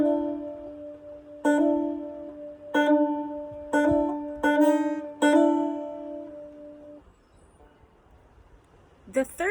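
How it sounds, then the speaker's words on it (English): Banjo hammer-ons played up close: about five bright plucked attacks in a slow, uneven rhythm, each open string ringing before a fretting finger snaps onto a new pitch, then a pause and a final pluck. "I start with the open string and then I hammer the finger on."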